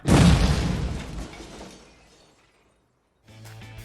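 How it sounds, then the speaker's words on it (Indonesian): A loud shattering blast as a kerosene-filled bathroom explodes in the film Home Alone, then a rumbling crash decays into near silence before a faint low hum begins. "Seluruh kamar mandi benar-benar meledak"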